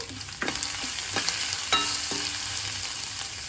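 Masala for masala dosa frying in a pan with curry leaves and ginger, a steady close sizzle broken by a few sharp scrapes and clinks of a spoon stirring, with no voices.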